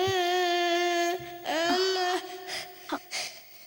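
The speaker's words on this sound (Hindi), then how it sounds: "तुम्हें किसी बच्चे के रोने की आवाज सुनाई दे रही" A child cries at night in a horror-film scene, drawn-out wailing sobs that rise and fall, close and clear before breaking into shorter whimpers.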